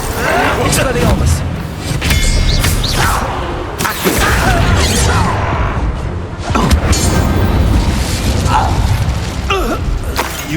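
In Hogwarts Legacy combat, the Expelliarmus spell and other spells produce booming impacts, whooshes and mechanical clanks in loud bursts, over game music and voices.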